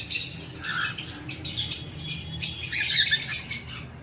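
Cockatiels, a mix of semi-adults and adults, calling in a pet shop: a busy chorus of repeated shrill chirps and squawks, close and fairly loud, continuing without pause and with no speech.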